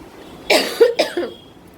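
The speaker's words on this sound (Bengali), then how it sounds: "ঠান্ডার চোটে কাশি হচ্ছে" A person with a cold coughs in a quick burst of about three harsh, close coughs, with brief quiet before and after.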